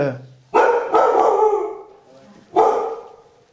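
A pet dog named Kate barks loudly and close by, giving two quick barks followed by a third after a pause, each trailing into a yelp-like tail.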